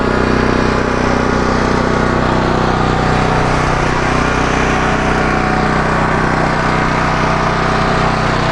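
A DuroMax XP12000EH dual fuel portable generator runs at a steady, loud drone with a constant buzzing hum, heard close and unbroken for over eight seconds with no talk.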